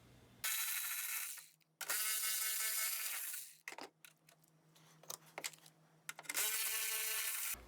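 A ratchet works on the core support bolts of a 2008 Mercedes GL320 during radiator replacement, with loud bursts of rapid clicking broken by short pauses and a few separate metallic knocks.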